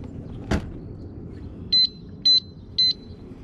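A motorbike anti-theft alarm gives a warning of three evenly spaced, sharp high-pitched electronic beeps, preceded by a single brief click against low background rumble.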